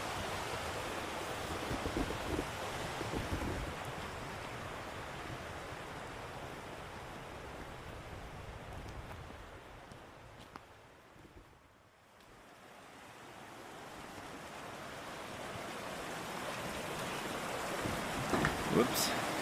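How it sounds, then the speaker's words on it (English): River water rushing steadily beside a backpacking trail, a broad continuous roar with some wind buffeting the microphone. It dips briefly near the middle, then swells back up. No one talks. "But when you hear water like this, that's also a good indication, because usually the campsites are close to water."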